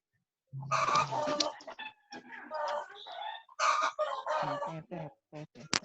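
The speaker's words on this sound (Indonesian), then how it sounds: "Ayamnya kondisikan nih. Ayam minta potong." Chickens cluck loudly and close to the microphone in choppy, irregular bursts. The sound breaks into an online university lecture call.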